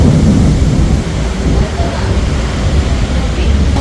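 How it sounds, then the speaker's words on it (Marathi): Heavy rain pours down steadily under a deep, rolling thunder rumble during a thunderstorm on a motorcycle trip between Udaipur, Rajasthan and Gujarat. The storm is loud, close and unbroken throughout. "आवाज पण आला असेल आणि मागे दिसतं त्या कंटिन्युअस विजा चमकतात आणि खूप जोरदार पाऊस चालू आहे"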